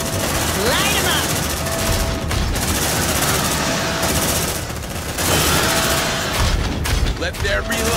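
Automatic weapons fire and a sentry gun blaze in a sci-fi combat scene from the video game Aliens: Dark Descent, a dense, continuous fusillade with booms, under shouted squad commands and radio chatter.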